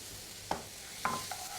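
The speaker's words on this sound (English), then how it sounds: "Add our lentils, in they go." Lentils added to a hot pan for dahl and stirred, a soft faint sizzle with two or three sharper knocks and scrapes of the stirring, heard alone.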